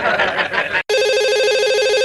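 A landline telephone rings in an office, a steady electronic trilling tone that holds for over a second after a brief burst of background chatter and a sharp cut.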